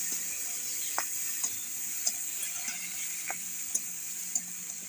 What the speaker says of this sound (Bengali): এখন আমি একটু হলুদ লবণ দিয়ে নেড়ে চেড়ে নেব।